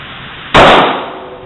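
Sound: gunshot at a shooting range

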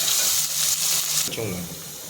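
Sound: sautéing onions in a pan until golden

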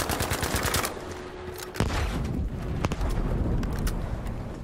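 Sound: bolt-action rifle gunfire in video game Battlefield V

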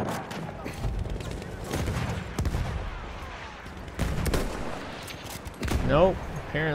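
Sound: sniper rifle fire in Battlefield 1 video game

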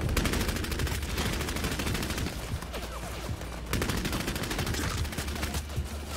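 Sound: crossbow bolt shot at a wall in video game Bloodhunt

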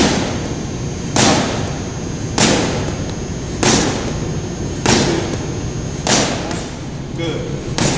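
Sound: punches hitting boxing focus mitts

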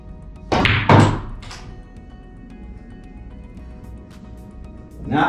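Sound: cue striking billiard ball in pool shot

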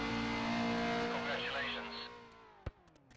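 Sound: race car spinning out with tire squeal in the video game Race Pro

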